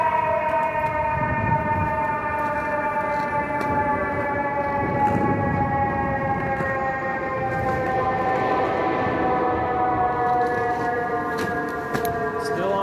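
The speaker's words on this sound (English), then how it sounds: "There's the Long Island Metro." A Long Island commuter train passes near East 44th Street and Madison Avenue in New York. A steady droning, horn-like tone holds over a continuous low rail rumble for the whole stretch, fairly loud, with faint city noise beneath.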